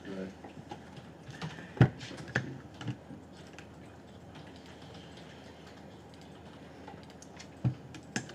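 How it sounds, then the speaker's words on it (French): A computer keyboard is typed on in a networking class, with scattered clicks, a few sharper keystrokes and a steady murmur of people talking underneath. "Appuie sur la lettre A de ton clavier."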